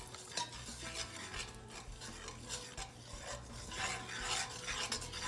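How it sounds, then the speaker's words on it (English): Oxtail being stirred as it caramelizes in brown sugar in a pot, giving a steady scraping, rasping stir with faint sizzle and occasional utensil clinks against the pan, continuous and close with no talking. "we're gonna keep stirring it"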